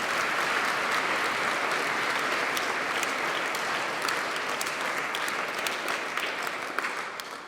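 Steady applause fills a church at a new priest's first Mass, a dense, close clapping that continues for several seconds and fades slightly toward the end.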